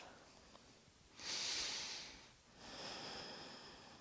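Slow, audible breaths during a beginner yoga flow: a soft, breathy exhale swells and fades, then another quieter breath follows, close and alone.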